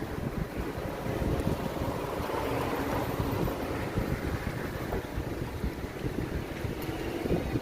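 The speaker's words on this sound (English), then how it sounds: "It's getting pretty windy out here." Strong wind blows outdoors, a continuous loud rumbling roar buffeting the microphone, with no talk.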